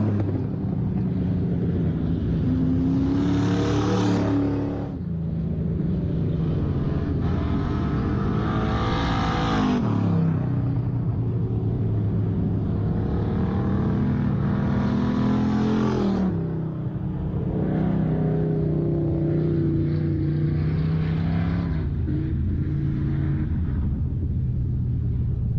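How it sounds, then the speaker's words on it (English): Race cars roar past at Lake of the Woods Speedway as a race finishes under the checkered flag, loud engines sweeping by in repeated waves with pitch shifts as each car passes, continuous throughout. "here comes the checkered flag for your race winner, Alexander Farr."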